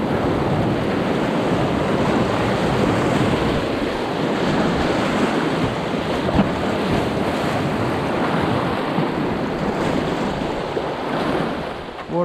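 Waterfall in a river gorge on the Franklin River, Tasmania, roaring loud and steady with dense rushing water and wind noise across the whole stretch, no voices.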